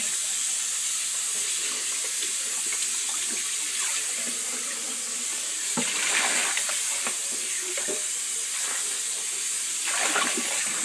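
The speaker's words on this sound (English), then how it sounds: "And then I just rinse this out with water." Tap water runs steadily over juicer parts in a sink, a continuous close hiss and splash with brief louder surges as the pieces are moved under the stream.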